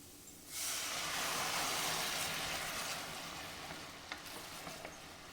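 Pepper sauce in a pan over low heat bursts into a loud hiss and sizzle as cognac is poured in, then settles into a steadier, slowly fading bubbling as it reduces.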